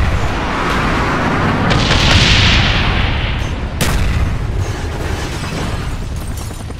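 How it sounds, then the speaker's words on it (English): Friendly mortar strike explosions in Call of Duty Black Ops rumble as a continuous loud barrage of booms and blasts, with a sharp crack near the middle and dense low-end rumble throughout. "Friendly mortars inbound."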